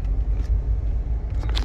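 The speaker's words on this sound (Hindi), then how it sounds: "यहाँ से गाड़ी आ रही है" Car on a busy road in Jeddah's Anakish district, a steady low engine rumble passing close by and filling the moment alone, with a brighter tyre hiss near the end.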